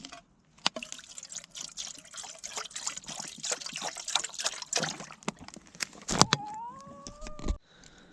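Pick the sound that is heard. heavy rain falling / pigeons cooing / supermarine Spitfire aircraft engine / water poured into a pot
water poured into a pot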